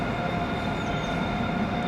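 Train running on the railway line right beside a church and graveyard behind King's Cross, a steady low rumble with a faint high whine, continuous throughout, no talk.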